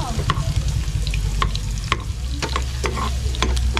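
Onions frying in a pan for squid adobo, a steady close sizzle with repeated sharp stirring scrapes and clinks throughout.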